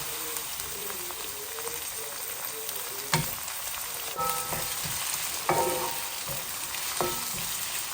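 Chili and tomatoes fry in a pan for chicken biryani, a steady close sizzle broken by a few sharp clinks and stirring knocks, with no talking.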